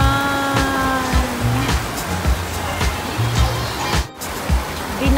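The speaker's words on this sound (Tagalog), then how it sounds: "Ang lakas ng ulan." Heavy rain pouring down, a dense loud hiss of drops hitting surfaces with constant spatter, mixed with passing engine hum and tonal vehicle sounds in the background.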